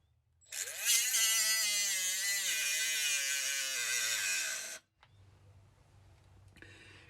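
A Milwaukee Fuel grinder powered by a generic eBay battery spins up with a loud, high-pitched whine for about four seconds, then cuts off, leaving a quieter low hum.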